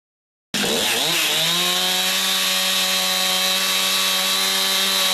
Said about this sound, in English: Using a chainsaw, we cut out for the corners and the windows.